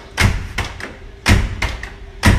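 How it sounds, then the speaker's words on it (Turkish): A door closes with repeated heavy thuds, three main knocks with softer taps between, loud and close with no talking. "Kapı sesi"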